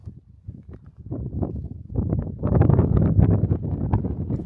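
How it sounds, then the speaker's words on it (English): Wind in the Black Gobi Desert of Inner Mongolia buffets the microphone in rough, uneven gusts that grow louder and denser after the first couple of seconds, with no talk. "The wind out here feels so fresh and surprisingly sharp."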